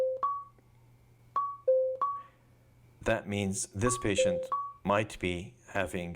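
Two-pitch electronic alert beeps from a Ceribell EEG seizure monitor sound at an emergency department bedside, repeating in short pairs at a steady pace before a person starts talking over the continuing tones.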